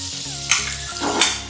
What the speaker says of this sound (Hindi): अब हमारा पैन अच्छे से गर्म हो चुका है तो इसमें मैं डाल रही हूँ बटर।